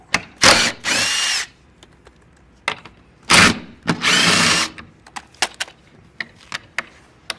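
Power drill backing bolts out of the camel hump rail on the arm of a high-leg Comfort Sleeper sofa: two long whirring bursts, a short one, then two more long runs, followed by light clicks and rattles, close and loud with no talk.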